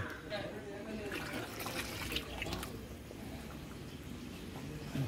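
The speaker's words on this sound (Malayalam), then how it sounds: "പാലൊഴിക്കുകയാണ്." Milk trickles and splashes as it is poured into ada pradhaman payasam, a steady liquid pour heard under a voice talking throughout.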